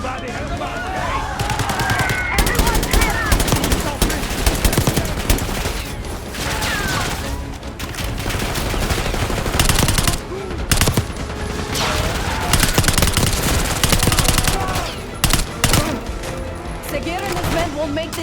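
Enemy gunfire in the Call of Duty Black Ops 6 campaign, heavy automatic bursts and repeated shots rattling loudly and continuously, with characters shouting over the shooting.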